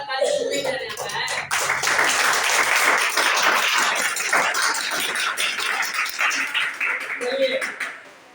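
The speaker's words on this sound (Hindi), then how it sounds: "हम सब एक साथ मिलकर क्लैपिंग बजाते हैं" A group applauds together for a student at a school results gathering, sustained broadband clapping from many hands filling the room for several seconds before tapering off near the end, with some voices audible at the edges.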